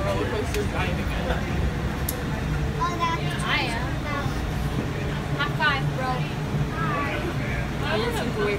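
An automated shuttle train running between terminals at Houston Airport, Texas, gives a steady low rumble and rolling drone throughout, with people talking nearby over it.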